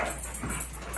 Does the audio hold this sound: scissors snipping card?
no